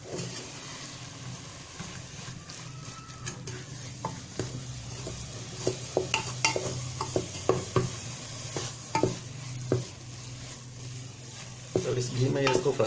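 A spoon stirs grated carrot halwa frying in ghee in a pan, giving steady scraping and clinking strokes over a constant low sizzle, with sharper metallic knocks bunching toward the end.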